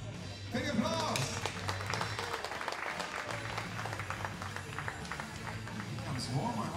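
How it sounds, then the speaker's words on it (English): Audience applause at a women's 50 m rifle three-positions final, a steady wash of clapping from a crowd that runs the whole time without a break, with a voice talking over it. "Congratulations, this bottle is for you. Big applause."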